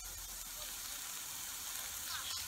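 Courgette spaghetti with a pinch of salt and a squeeze of lemon juice sizzling steadily in a pan, a bright, even hiss with a few soft crackles throughout.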